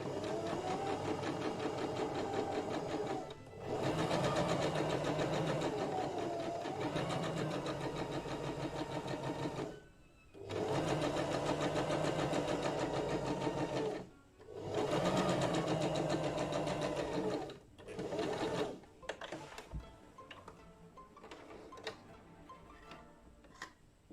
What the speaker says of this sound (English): Slowly put your foot on the pedal foot, and it will begin to sew.